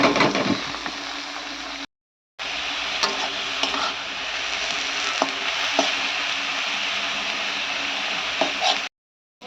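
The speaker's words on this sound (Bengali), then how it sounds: "তো এটাকে এবার ভাজা হবে" Mixed fresh leafy greens frying in a pan with dried chili, a steady loud sizzle with repeated scraping stirs of a spatula, broken by two short gaps.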